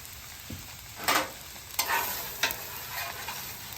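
Oil sizzling and spattering on a hot flat-top griddle heated for steak fajitas, a steady broadband hiss broken by several sharp bursts and crackles as utensils scrape the surface, close and fairly loud with no talking.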